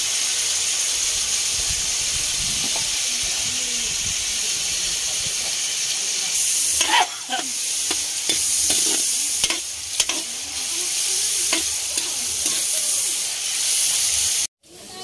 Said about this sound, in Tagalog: lalagyan na natin yung ating kikiam at squid ball.